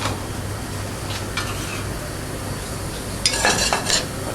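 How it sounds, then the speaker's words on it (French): Langoustines pan-frying on their backs, seasoned with salt and nanami spice, give a soft steady sizzle in a professional kitchen, with a few brief metallic clinks of pan and utensils near the end. "Donc les langoustines, on les poêle sur le dos."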